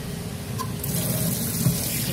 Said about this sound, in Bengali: এইভাবে জল দিয়ে এটা ঠান্ডা জলে ভালো করে ধুয়ে নিতে হবে